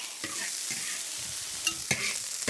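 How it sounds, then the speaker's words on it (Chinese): Bean sprouts stir-fried in hot oil with dried chili, Sichuan pepper and garlic give a steady sizzle, broken by a few sharp spatula scrapes and clacks against the wok over a couple of seconds. "起锅倒油，干辣椒、干花椒、大蒜、豆芽儿，捞2下都铲出来。"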